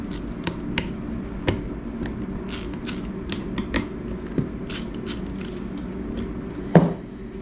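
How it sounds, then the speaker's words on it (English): Screws being backed out of the sanding pad on a Milwaukee M18 random orbit sander with a Torx T25 bit: close, scattered creaks and small clicks over a low hum, ending in one louder clack, with no talking. "Take out the screws."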